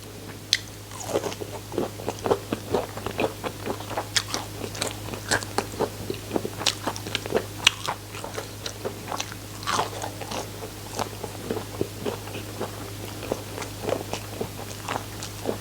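Crispy oyster mushroom coated in egg and breadcrumbs and deep-fried is eaten in a long, steady series of crunchy bites and chewing close to the mic, with a low constant hum underneath.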